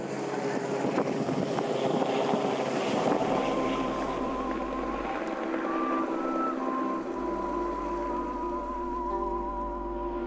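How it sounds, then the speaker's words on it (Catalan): Helicopter flying supplies up to a Swiss mountain hut and carrying waste away by air, a steady rotor drone with low pulsing beneath, heard under narration and some tonal beeps. "Tot el que es necessita al refugi arriba en helicòpter."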